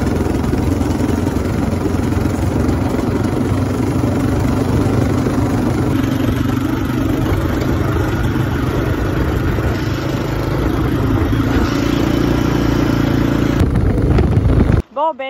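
Four-wheeler ATV carrying two riders at a chalet, engine running steadily with a loud, rough mid-pitched drone and rattling clatter close by, voices heard over it, ending in a brief burst of handling noise.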